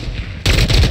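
Gunfire in the video game Call of Duty Warzone, a loud, sudden burst of rapid shots that starts halfway through a second of low rumbling game ambience.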